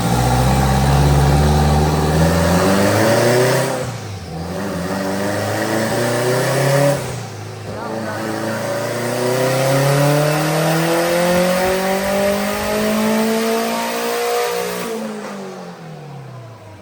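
Sand car engine on a dyno during a pull, a loud, continuous engine roar rising steadily in pitch across three long sweeps separated by brief gear-change dips, with no talking.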